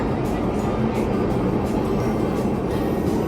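Passenger train in motion, heard from inside as a steady, dense low rumble with a continuous hiss, moderately loud and unbroken.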